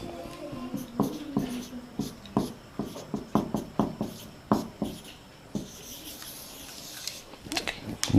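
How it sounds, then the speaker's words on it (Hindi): Chalk or marker strokes on a board during a chemistry lecture on buffer solutions, a series of short scratchy taps and scrapes in an irregular rhythm, heard close and fairly clear. "मैं लिख देता हूँ।"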